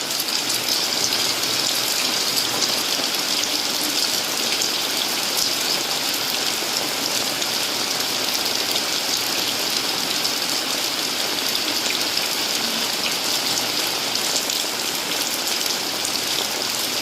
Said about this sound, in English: Oh yeah, rain coming down.